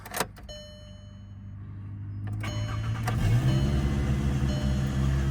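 A used car with about 141,000 miles and a possible bad pulley cranks and starts, then settles into a steady idle with a loose, whirring belt tone underneath, heard up close and alone.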